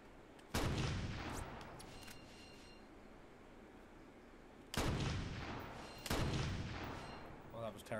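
Gunshots in the video game Crackdown: three loud, close blasts, each with a long rumbling decay, spaced several seconds apart.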